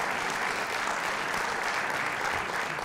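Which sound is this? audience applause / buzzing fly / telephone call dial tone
audience applause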